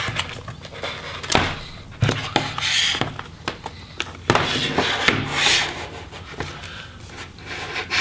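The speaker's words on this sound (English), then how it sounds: "now we can go ahead and open up the Mac." A MacBook Pro A1398 laptop case is being opened, with close scraping and rubbing sounds, sharp clicks and snaps of the casing coming apart in irregular bursts, no speech.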